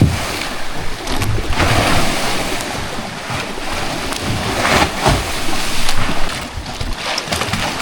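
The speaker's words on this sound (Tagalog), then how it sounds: "medyo malakas yung hampas ng alon papasok at baka masira yung ating bangka" Rough waves slap and surge against a small wooden outrigger boat off a small island, with wind buffeting the microphone in a steady, loud wash and heavier hits near the middle and end.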